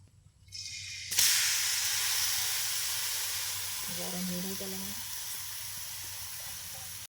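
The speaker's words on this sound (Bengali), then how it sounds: "একসাথে যে মাখিয়ে রেখেছিলাম মাংসটা, এবার আমরা কড়াইতে দিয়ে দিলাম।" Marinated chicken drops into hot oil in a kadai with a sudden loud sizzle that settles into a steady, close frying hiss, with a brief voice partway through.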